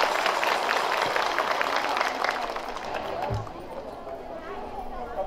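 An audience at a religious gathering held at a Buddhist monastery in Nepal claps in a dense burst that fades over a few seconds, followed by quieter murmuring.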